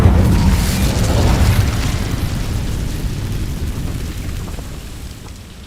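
A fire spell blast in Hogwarts Legacy on PS5, a loud rumbling whoosh and boom that opens strongly and then rolls on as a sustained roar, slowly fading across several seconds.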